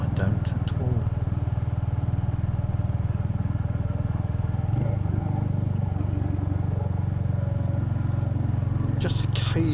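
Motorcycle engine rumbling steadily on a country road between Kirkby Lonsdale and Sedbergh, a continuous close drone with faint clatter and brief higher noise at the start and end.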